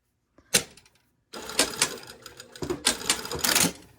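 A home sewing machine reinforces a garment side seam, first a sharp click and short burst, then a brief pause, then a run of rapid, uneven stitching bursts close up.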